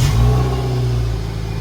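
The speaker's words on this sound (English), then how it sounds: "this is a bespoke exhaust for the March Nismo S" A Nissan K13 March Nismo S with a bespoke Alltech exhaust and coilover suspension revs close by, a loud, steady engine drone with its pitch sagging slightly as the revs fall away, no voices.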